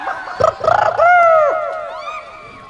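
A voice imitates a chicken, giving a few short clucking bursts followed by a longer warbling, squawk-like call, close and fairly loud.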